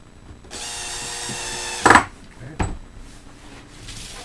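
A power drill drives screws into a wooden fairytale castle kit, a steady whir of about a second and a half followed by a sharp clatter and a knock, close and alone.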